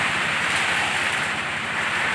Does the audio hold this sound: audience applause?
no